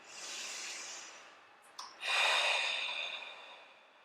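Deep breathing during a neck and shoulder stretch at home: a long exhale, a short catch of breath, then a stronger drawn breath that slowly fades, close and fairly quiet.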